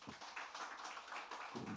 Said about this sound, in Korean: 우리 사역자들 박수 한번 부탁드려요